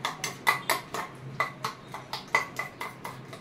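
A utensil scrapes and taps rhythmically against a pan as an omelette mixture is stirred, giving a quick, regular series of metallic clinks with no one talking.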